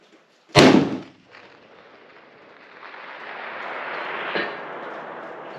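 A single sharp .338 Lapua rifle shot cracks loudly, then fades into a rolling echo, followed about four seconds later by a faint, distant thump of the bullet impact downrange.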